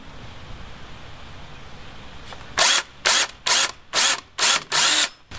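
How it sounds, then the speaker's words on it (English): A power drill bores screw holes for a compost toilet door in a tiny house, six short loud bursts in quick succession after a quiet stretch of room tone, with brief pauses between each. "drilling in here so these screws can be set."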